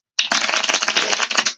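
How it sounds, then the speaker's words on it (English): Playing cards are shuffled and cut close up, a dense run of rapid, crisp flutters and clicks lasting just over a second with no talk. "That's literally all I'm doing is shuffling and cutting the cards."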